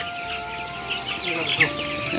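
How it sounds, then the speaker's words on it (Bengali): Broiler chickens on a small poultry farm, a steady close chorus of clucking and chirping that fills the space without pause. "এগারোশো মুরগি সব ব্রয়লার না"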